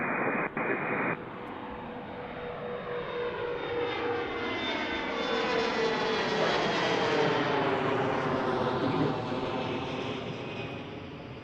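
An airplane on arrival at Washington Reagan National Airport passes with a loud, rising and falling jet engine roar that swells and sweeps overhead over about ten seconds, alone without talk.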